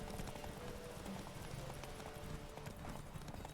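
A horse galloping in The Witcher 3, rapid rhythmic hoofbeats clip-clopping steadily under game ambience and faint voices.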